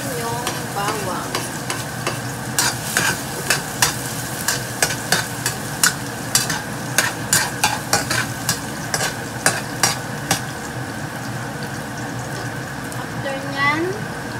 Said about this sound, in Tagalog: Na yung mantika, ilagay na natin yung bawang